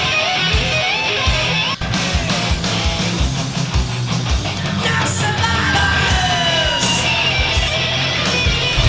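The 1988 mix of the heavy metal song plays loud and dense throughout, with driving distorted guitars, pounding drums and shouted vocals.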